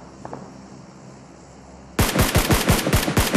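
Rapid automatic gunfire bursts from PUBG Mobile erupt after a quiet stretch, a loud close string of about ten sharp shots in quick uneven rhythm.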